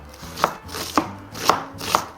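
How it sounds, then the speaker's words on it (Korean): Four crisp knife chops through an onion strike a cutting board at an even pace, each a sharp thud close by, with quiet moments between them. "양파도 칼질 왜 이렇게 못하게 되냐?"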